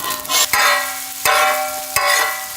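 Chopped onions fry and get stirred in cold-pressed sesame oil alongside finely chopped garlic, a steady loud sizzle broken by three sharp scraping stirs spaced about a second apart, close up with no voices.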